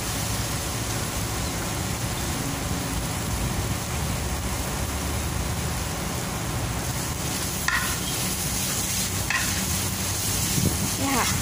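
Minced pork with chili stir-fried in oil for Thai basil pork, a steady broadband sizzle with scraping stir strokes throughout, close and fairly loud, with no talking.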